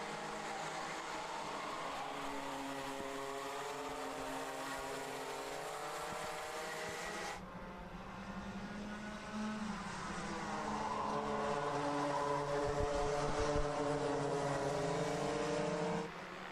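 Racing karts in the Rotax Max Challenge final at Genk, a sustained high-pitched buzz of several two-stroke engines revving and shifting pitch together, loud and continuous for the whole stretch with no talk.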